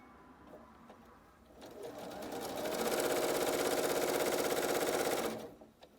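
Sewing machine stitching quilt block pieces, a short stutter of stitches then a steady, fast whirring run of several seconds that stops abruptly, close and fairly loud.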